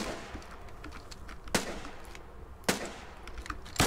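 Rifle gunfire in the Foxhole war game: three sharp, isolated shots spaced over a few seconds, loud against a steady low rumble of battlefield ambience.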